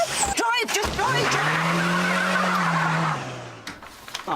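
A car pulls away fast with a long, loud tire squeal and engine roar, held for about two seconds before fading, with urgent voices briefly heard at the start.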